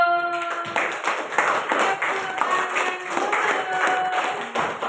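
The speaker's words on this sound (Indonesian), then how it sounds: "Tepuk tangan dulu." A group of people clapping hands together in a steady, rhythmic pattern, with voices talking over it.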